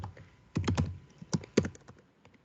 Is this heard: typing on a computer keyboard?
yes